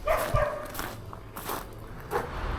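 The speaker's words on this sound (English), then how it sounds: "around the front of the hotel, there's an awful lot of yappy dogs" Small yappy dogs bark out front of a hotel, a few sharp yaps scattered at mid distance over outdoor background noise.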